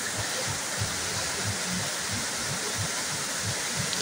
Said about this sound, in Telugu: చూస్తున్నారు కదా జలపాతం ఎంత అద్భుతంగా ఉందో.